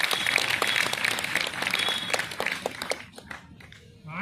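Audience at an Independence Day lecture gathering clapping loudly together, a dense burst of applause that runs for about three seconds and then fades to a few scattered claps.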